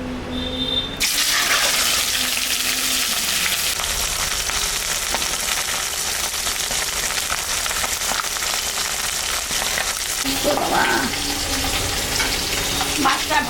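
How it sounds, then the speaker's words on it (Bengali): Magur catfish fries in hot mustard oil in a kadai, a loud, dense, continuous sizzle and crackle that flares as the fish hits the oil and carries on close by, with no talking. "মাছটা এখন আমি ভাজব।"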